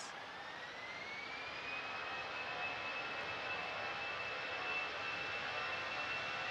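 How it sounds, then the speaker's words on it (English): An Emirates jet airliner on final approach at Manchester Airport gives a steady, distant engine roar with a faint rising whine, holding even and unbroken throughout. "the Emirates just a couple of minutes away on final approach now"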